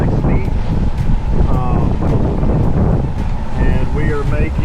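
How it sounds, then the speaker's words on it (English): Strong wind buffets the microphone on a motor-sailing sailboat crossing the channel in 14 knots of wind and 4 to 6 foot seas, a constant loud rushing roar beneath a voice. "Got 14 knots of true wind, and the seas are probably 4 to 6 feet."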